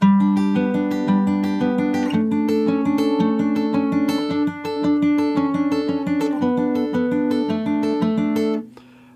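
Fingerpicked acoustic guitar notes ring out in a steady pattern, chords shifting every couple of seconds before letting the last one fade; a chorus part of a song, clear and close, no voices.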